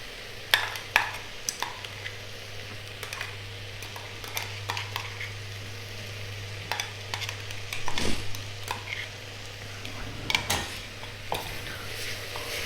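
Ginger, garlic and green chili sauté in a pot for Thalassery beef dum biryani, a low sizzle under repeated clinks and scrapes of a metal spoon against the pan, with a steady hum beneath.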